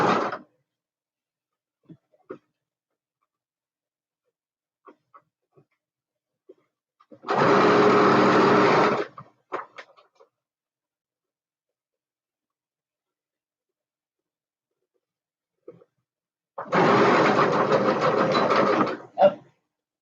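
Sewing machine top stitching fabric runs in two short, steady whirring bursts separated by long quiet gaps with faint handling clicks.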